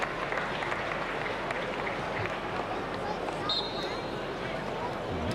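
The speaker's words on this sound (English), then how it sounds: "It's a warm round of applause as he limps off the pitch" A stadium crowd at a Germany vs. Hungary under-21 football qualifier applauds an injured player limping off the pitch, a broad steady wash of distant clapping and crowd noise lasting throughout.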